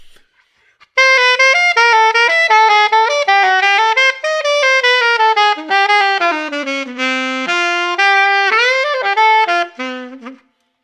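A saxophone plays the lick of doom as a fast, unbroken run of notes. It is loud and close, with no voices, and cuts off after about ten seconds.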